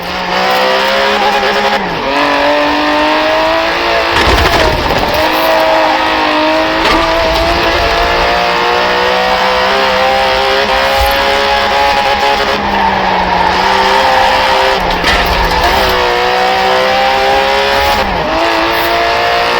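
Aston Martin DB11 with a 5.2-litre twin-turbo V12 in Forza Horizon 4, engine roaring steadily and loud throughout, rising and falling with repeated gear shifts and bursts of revving, no voices.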